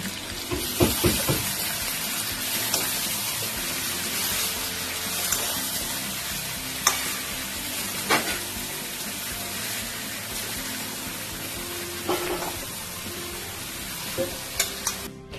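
Chicken frying with garam masala and spices in oily pan, a steady loud sizzle throughout with occasional scraping stirs and clinks of a spoon against the pan.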